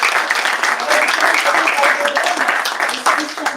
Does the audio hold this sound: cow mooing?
no